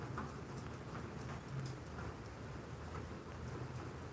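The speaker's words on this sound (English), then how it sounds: "Maybe the rain is bringing out the crazies." Steady rain hiss fills the whole stretch, with soft low rumbles of distant thunder underneath; no voices.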